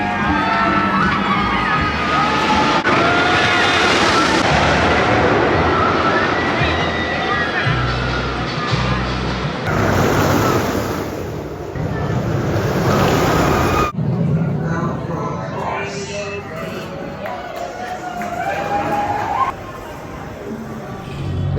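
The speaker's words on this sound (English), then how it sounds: "getting on to Millennium Force for not quite a sunset ride," Ride on the Millennium Force roller coaster at Cedar Point near sunset: loud, continuous rushing wind and track roar with deep rumbling, brief shifts in intensity, and crowd-like shouting and cheering mixed in.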